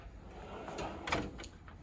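A wooden drawer on a three-drawer kitchen unit in a cabinet showroom slides open or shut with a soft rolling rumble and a light knock near the end, close by and alone.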